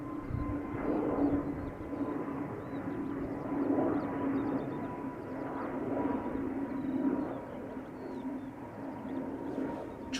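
A United airliner on final approach to the runway threshold at Schiphol Airport, heard from a distance as a low, steady engine drone with faint birdsong above it.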